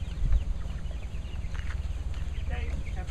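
Chickens cluck softly in a mobile chicken tractor outdoors, faint scattered calls over a low rumbling background, with a person talking nearby.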